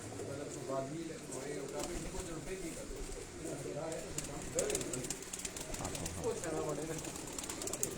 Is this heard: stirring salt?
no